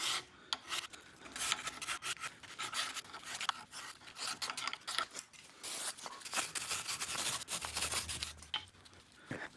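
Rear brake caliper carrier on a 2022 Hyundai Tucson being cleaned for new pads: a faint, steady scraping and rubbing at close range, uneven strokes with no talk.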